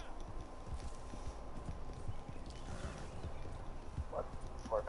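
Horse hooves clip-clop at a steady walking pace in a PS4 video game, under a constant ambient bed of game sound, moderately faint.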